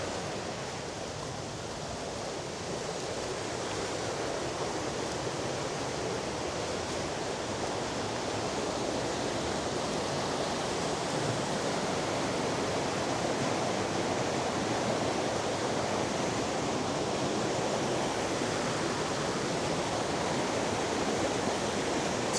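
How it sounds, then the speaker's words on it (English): Rushing water pours steadily down a stream gully on a hill hike in Northumberland, England, in a dense, broadband roar that stays constant throughout, close and fairly loud with no voices. "It's a magnificent place to be with the sound of the rushing water."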